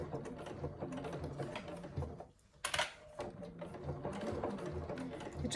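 Sewing machine basting around the curved edges of a faux leather handbag, a close, steady mechanical whirr of rapid stitching that pauses briefly partway through, then resumes.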